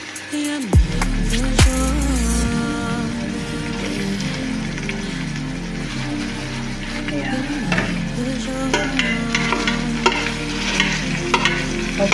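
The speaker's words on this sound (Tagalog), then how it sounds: "Ilalagay na natin ang ground beef." Ground beef frying with onions in a pan for an Arabic chicken and beef dish: a loud steady sizzle, preceded by a clattering drop as meat goes in, then continual scraping and clinking of stirring, close up.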